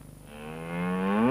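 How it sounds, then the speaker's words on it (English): A single cow moo rises steadily in pitch and loudness over a second or so, close and alone. "They work with cattle."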